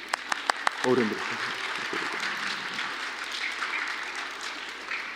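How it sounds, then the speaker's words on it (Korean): A church congregation at a Sunday service applauds: a few sharp separate claps build into a dense, steady wash of clapping that fills the room at moderate volume, with murmuring voices mixed in. "우리 어른들 우리와 예배 드리는 거 좋아해 줘서 고맙다고 박수 한번 치세요"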